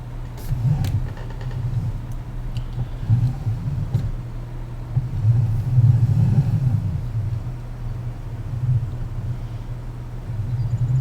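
A tractor engine idles and runs steadily in Farming Simulator 19, a low droning rumble with slight swells in load, close and continuous throughout with no talk.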